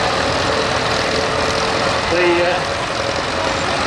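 A Perkins diesel tractor engine runs with a steady rumbling drone at a steam rally, close and fairly loud, a voice speaking briefly over it.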